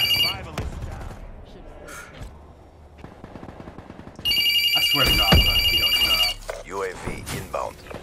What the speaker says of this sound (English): and it's damn phone ringing.